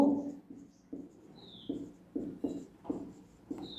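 Marker or chalk writing on a classroom board during a maths lecture, a rhythmic series of short scratchy strokes, about eight in a row, close and moderately loud with faint room noise between.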